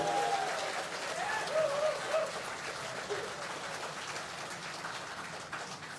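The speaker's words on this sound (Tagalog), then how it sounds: "isang mainit na palakpak bilang pasalamat sa MMDA family" Steady applause from a crowd at the groundbreaking of a pet park and senior citizens park in Manila, a dense continuous patter of clapping that holds at an even level throughout with a few faint voices mixed in.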